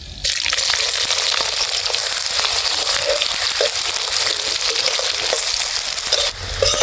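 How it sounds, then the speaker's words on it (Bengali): Onions sizzle in hot oil with whole dried red chillies and whole garam masala for a spicy chicken leg bhuna, a loud, dense frying hiss that runs steadily and cuts off near the end. "পেঁয়াজটা এখানে লাল লাল করে ভেজে নিয়েছি"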